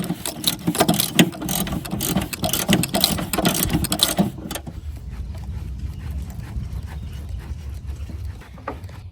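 A half-inch ratchet with an extension and spark plug socket clicks rapidly, breaking loose a spark plug on a Mercedes GLS 63 (X166), loud and close for about four seconds before dropping to quieter handling noise.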